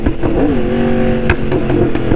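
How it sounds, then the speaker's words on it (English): A motorcycle engine brakes hard while downshifting, its loud close tone dipping and wavering between gear changes, with brief sharp blips of revs breaking through. "somewhat harder engine brake"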